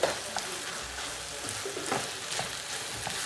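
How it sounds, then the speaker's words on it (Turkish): Garlic frying with onions in a hot pan, a continuous bright sizzle with a few stirring scrapes over about three seconds, no voices. "Hemen sarımsağı ilave ediyoruz. Şöyle bir de karıştıralım."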